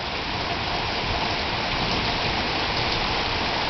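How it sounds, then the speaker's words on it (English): Garden sprinkler spraying water outdoors, a dense, steady hiss of droplets that stays loud and unbroken from start to finish. "put the sprinkler back"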